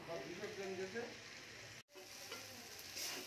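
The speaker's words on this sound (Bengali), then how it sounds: "গ্যাসটা জোরে দিয়ে 1 মিনিট আমি ভেজে নিয়ে জল দিয়ে দেব।" Tilapia fish frying in oil over high gas, a steady close crackling sizzle that drops out for an instant and then resumes just as busy.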